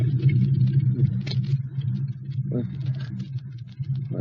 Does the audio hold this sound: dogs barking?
no